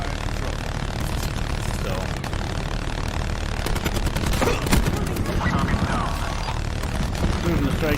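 A turret fires steadily in a Gridlock street-side video game match, with rapid gunfire bursts over a dense, loud bed of engine drone and battle noise, while a voice talks over it.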